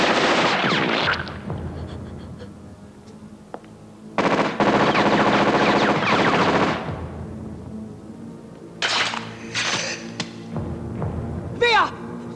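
Bursts of rapid gunfire ring out loud and close in separated volleys, with gaps of quieter sound between them and shouting voices mixed in.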